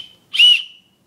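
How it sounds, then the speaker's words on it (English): A single sharp, shrill blast from a small survival-kit whistle, close and loud, lasting about half a second and standing alone in quiet surroundings. "And there's also a whistle on it right there"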